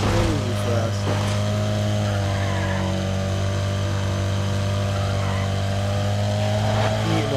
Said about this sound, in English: that Porsche's fucking crazy fast